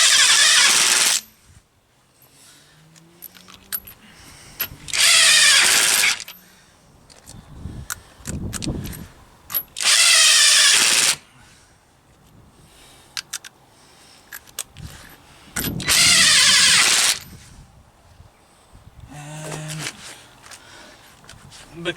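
A power torque tool tightens a front brake nut on a Jaguar X-Type, set low to 150 newton meters. It fires in four loud, harsh bursts of about a second each, separated by quieter stretches.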